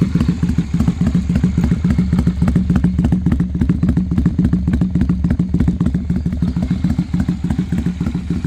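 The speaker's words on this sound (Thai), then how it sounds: "ไม่มีเสียงวาวไม่มีเสียงโซ่ลาวลิ้น ไม่มีเสียงกระเดื่องดังแปลกปลอมนะครับ เสียงท่อก็ดังอยู่แต่ว่าไม่มาก" Honda Steed 400 single-carburetor motorcycle idling steadily, a close, continuous low engine rumble with a moderate exhaust note and rapid even pulses, no voices over it.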